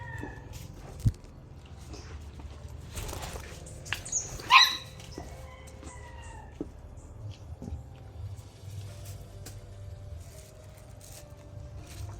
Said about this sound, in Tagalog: Aso natin, sobrang kulit ng aso.